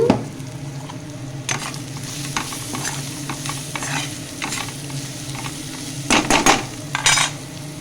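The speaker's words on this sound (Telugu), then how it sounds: "స్పైసీకి తగ్గట్టు కొంచెం కారం, ఇంకొంచెం గరం మసాలా వేసుకొని ఇంకోసారి కలుపుకుందాము" Paneer fried rice with chili and garam masala being stirred in a pan, sizzling under scraping spoon strokes and metal clinks, with a louder burst of stirring near the end, close and with no voices.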